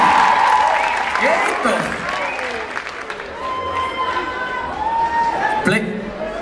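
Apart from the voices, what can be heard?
audience applause at a dance performance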